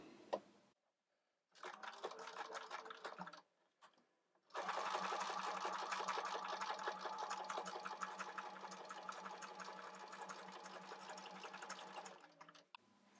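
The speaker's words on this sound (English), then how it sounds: "So now I'm going to flip this over and we're going to top stitch" A sewing machine with a leather needle top stitches microsuede fabric, first in a brief run, then after a pause in a long, steady, loud stretch of rapid stitching before stopping.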